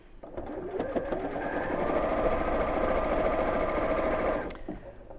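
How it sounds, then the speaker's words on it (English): A sewing machine stitches fabric binding in one continuous whirring run with a steady motor hum, starting and stopping cleanly, close by and without talk. "I'm not going to pin, and I'm going to sew in the first crease."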